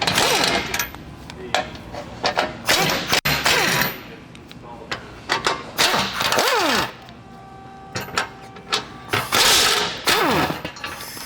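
A socket ratchet clicks in quick repeated bursts while 15mm bolts are backed out to remove the factory skid plates on a 2020+ GM 2500 truck, with metallic clanks and some talking over it.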